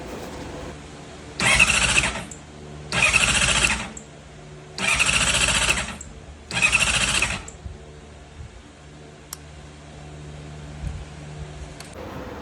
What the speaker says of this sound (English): it was just basically cranking and not even trying to start